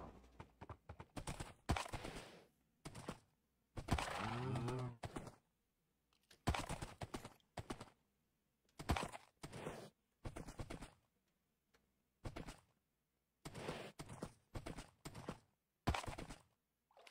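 Hooves clip-clopping in short bursts separated by quiet gaps, with game-like clattering footfalls and a brief whinnying tone partway through.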